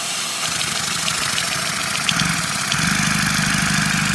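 A LEGO opposed-piston vacuum engine with a rotary valve runs continuously, giving a close, steady mechanical whir and rapid rhythmic chatter that grows slightly fuller partway through, with no talk.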